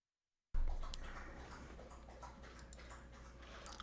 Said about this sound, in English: I'm sure you can hear my dog drinking water in the background.